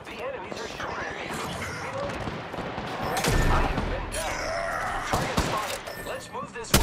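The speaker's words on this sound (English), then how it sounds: "The enemies are shooting at me." Enemy gunfire in a squad-based shooter video game, with bursts of rapid shots and loud impacts crackling through a dense, busy mix, with talk heard along with the gunfire.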